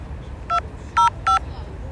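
A telephone number is dialed as three distinct keypad tones, each a short beep with paired pitches, heard near and clear over a faint hum of background noise.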